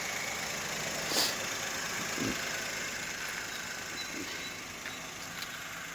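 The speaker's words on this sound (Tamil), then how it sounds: "என்ஜின் ரன்னிங் பார்த்தீங்கன்னா நல்லா ஸ்மூத்தாக இருக்குங்க" A Maruti WagonR VXI car engine runs at a smooth, steady idle, a faint continuous hum with a few small clicks and knocks and no talking.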